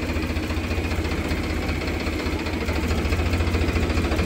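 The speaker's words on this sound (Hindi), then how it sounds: "पावर ट्रैक जा रहा, पावर ट्रैक देख लो भाई, खेत जोत में जा रहे" A Powertrac tractor heading out to plough a village field runs with a steady, heavy diesel chug, low rhythmic knocking throbbing continuously and fairly close, with no talk over it.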